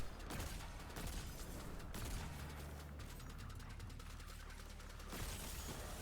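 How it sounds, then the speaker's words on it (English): Gunfire in the video game Destiny 2 as a player shoots to break a servitor's shield: a dense, continuous run of rapid shots and game effects at steady loudness, with no talking. "For the servitor, we're just going to break its shield with a few shots."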